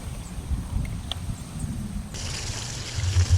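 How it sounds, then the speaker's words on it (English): Water from a garden hose runs steadily into a cooler of live crawfish being rinsed, making a continuous splashing trickle that stays close and fairly quiet. "Rinse them off thoroughly and leave the hose in the cooler so it'll continue rinsing while you're doing the other stuff."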